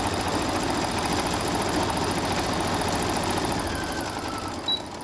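A sewing machine runs steadily for about five seconds, stitching a seam along the wrong side of fabric, with a continuous motor hum and rapid needle chatter close by and no talk.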